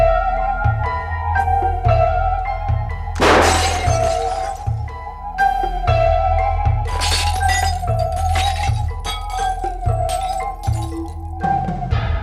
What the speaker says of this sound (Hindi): यहाँ बिल्डिंग के इतने सारे कांच टूट रहे, इतना शोरगुल हो रहा